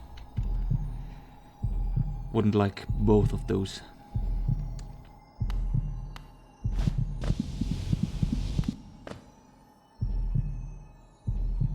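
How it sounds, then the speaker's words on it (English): A deep pulsing heartbeat from the video game Hollow Knight throbs in regular low thumps about every one to two seconds, with someone talking over some beats and a steady hum beneath. "There's a pulse. So either it's a heartbeat or it's an energy source that pulses."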